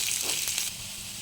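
Onion frying in oil in a wok for Yippee noodles, a brief, steady hiss with a faint stirring scrape early on, close and alone.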